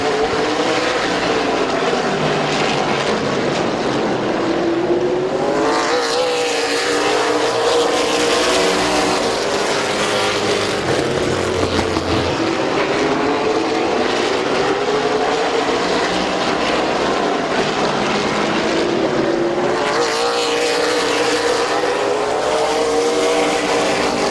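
Oval-track race cars at Midvale Speedway accelerating off a green flag into turn one, a dense, loud, continuous engine roar with several cars' pitches sweeping up and down as they pass, no talking.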